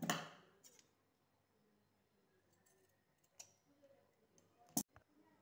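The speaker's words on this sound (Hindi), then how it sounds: "ये जो इसका एक्स्ट्रा ऊपर ये कपड़ा है गले से ऊपर इसको मैं काट दूंगी" Scissors snip a few times through the extra cloth above a kameez neckline, making sharp, brief clicks separated by quiet pauses, close and fairly faint.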